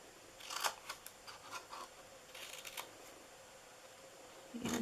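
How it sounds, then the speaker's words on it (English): Scissors snip through the paper tops of a stamped treat box in a quick series of faint, close cuts, followed by a pause and another short run of snips, with no talking. "You're going to cut these tops here off."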